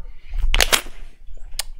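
Two sharp gunshots from a first-person shooter, Apex Legends, crack out in quick succession as back-to-back headshots, followed by a lighter third snap, close and fairly loud.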